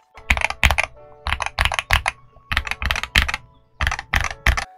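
Typing bursts on a Boyi66Pro HE 65% wired magnetic-switch keyboard, clusters of deep, crisp keystroke clacks in uneven rhythm with short pauses between, close and alone.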